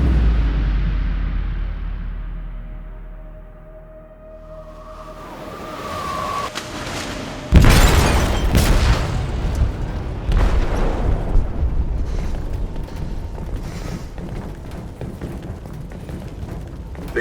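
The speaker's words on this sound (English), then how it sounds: "They detonated an explosive in the hold." A single loud, deep detonation goes off inside a ship's hold in the video game Detroit: Become Human. It follows a quiet build-up, then a long rumbling, crackling aftermath fills the rest of the stretch.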